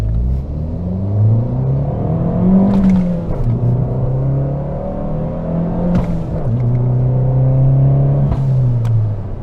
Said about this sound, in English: Let me go through the gears real quick